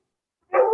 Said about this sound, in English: Sorry for the dogs in advance